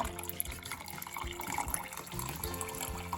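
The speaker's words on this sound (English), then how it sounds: "And then I'm gonna pour some around on the inside" Water pours steadily inside a stovetop coffee pot, a continuous splashing, gurgling stream at close range with no voices.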